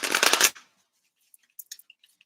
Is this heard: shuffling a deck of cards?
yes